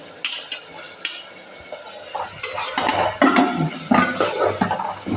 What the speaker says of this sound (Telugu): ఉల్లిపాయలు బాగా వేగిన తర్వాత గ్రీన్ చిల్లీ వేసుకుంటున్నాం